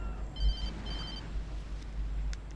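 A telephone rings in the video game Alan Wake, two short bursts of trilling electronic ring heard faintly over a low background hum.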